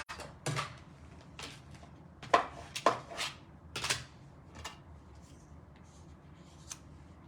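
Scissors cutting paper card pieces by hand for a handmade card: a close, fairly quiet series of crisp, irregular snips and rustles with short pauses between cuts, and no talking.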